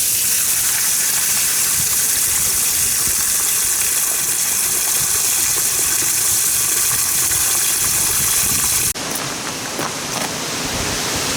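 Water gushes out of a camper's freshwater tank while it is drained for winterization. A loud, steady rushing flow continues unbroken, then briefly shifts in tone near the end.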